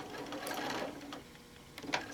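A sewing machine stitching a quilt tack on a quilt, a faint quick mechanical whir with a few short bursts of stitching, heard alone at low level.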